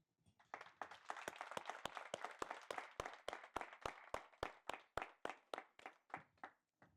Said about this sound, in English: So I'm going to ask all of us to clap hands for them.